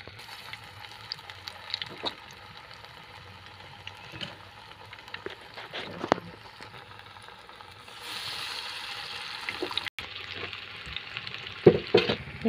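Banana flower vadas deep fry in oil, a fairly quiet, steady bubbling sizzle with occasional clinks, swelling into a louder hiss toward the end.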